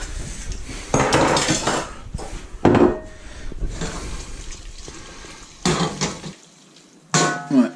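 Square white bowl and metal cutlery handled while plating pasta in a home kitchen: close, irregular clinks, scrapes and knocks of utensils against ceramic in bursts with quieter gaps, no voices.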